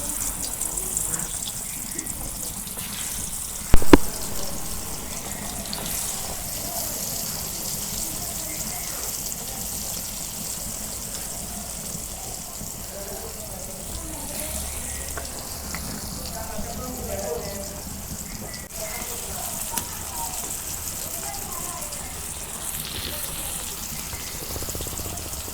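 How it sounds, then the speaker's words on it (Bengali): Pointed gourd (potol) pieces coated in chili powder fry in hot mustard oil in a village kitchen, giving a continuous hissing sizzle with a sharp utensil clank early on and faint talk now and then. "এখন আমি ভাজা নেব।"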